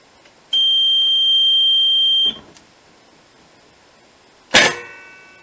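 A fire safety system demonstration model triggers its evacuation alarm, sounding a loud steady electronic tone for about two seconds, followed after a pause by a sharp mechanical click-clatter as a damper flap releases.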